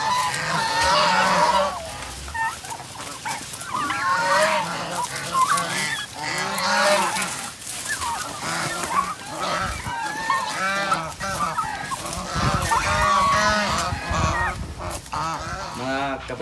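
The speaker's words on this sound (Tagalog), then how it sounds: "itong mga pabo, tumatakbo sila." Turkeys on a rural farm call loudly as they run for leaves: repeated honking, gobbling cries from several birds close by, overlapping in a noisy chorus with some human talk mixed in.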